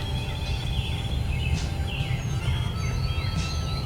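Wild turkey toms gobble repeatedly at a distance in an open spring woodland, several rattling calls spaced through steady low background noise, with no talking.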